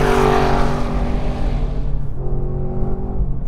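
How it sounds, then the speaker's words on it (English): A 7-liter car engine roars close and loud under hard acceleration, a deep rumbling drone that stays strong throughout, then dips slightly as the revs settle. "Can you guys hear that engine noise?"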